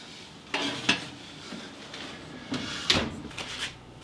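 A vegan mushroom lasagna goes into the oven amid close kitchen clatter: a few sharp clanks and thumps of a dish and oven door against a low background hum, without talking.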